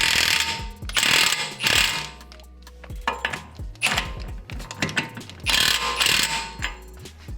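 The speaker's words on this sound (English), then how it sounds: "the last step for us to do is to torque down this axle nut. So I've got my gun right here" Impact gun with a 36 mm socket torquing the axle nut on a BMW E46, firing in several loud hammering bursts with short pauses between them.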